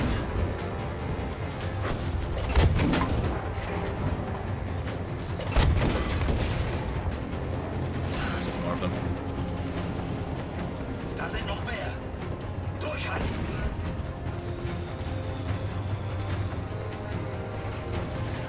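Explosions rumble through a destroyed city at night in Battlefield V, with two heavy booms early on and scattered crackling blasts, heard under almost continuous game commentary.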